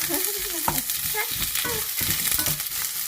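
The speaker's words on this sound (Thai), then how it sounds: "ก็จะผัดเครื่องให้หอมนะคะ" Garlic, ginger, shiitake mushrooms and coriander root are stir-fried in a pan with a steady close sizzle and repeated scraping stirs of a utensil, continuous and fairly loud with no talking.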